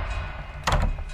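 A wardrobe door in a horror video game opens with a single short creaking thunk midway, set against a low rumbling ambient drone.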